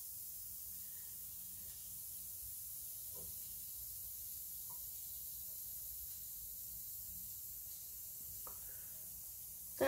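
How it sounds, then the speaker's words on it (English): A Lush bath bomb fizzing in a tub of water gives a steady, soft, close hiss that runs for the whole stretch, with a few faint pops and small splashes. "This was a really fast fizzing bath bomb."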